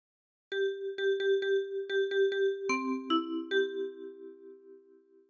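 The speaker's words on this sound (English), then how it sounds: "practice this until you end up with something that sounds like this." A ten-key kalimba plucks a phrase of the sea shanty Drunken Sailor, with repeated bright metallic notes in a steady rhythm, then lower tones that ring out softly and alone.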